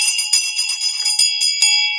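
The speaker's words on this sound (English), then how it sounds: "It's a brass school bell." A handheld brass school bell rings loudly and close by, with bright, metallic clangs coming in quick repeated strokes and a shimmering ring that hangs between them.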